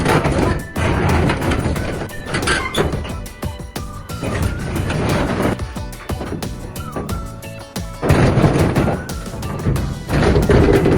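A giant scrap metal crusher with huge steel jaws crushes shipping containers, giving loud, continuous metallic crashing, grinding and banging with heavy impacts throughout.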